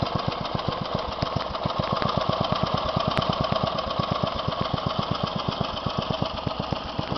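A Westwood S1000 lawn tractor engine idles with an even, rapid ticking beat, steady and close throughout with no talking.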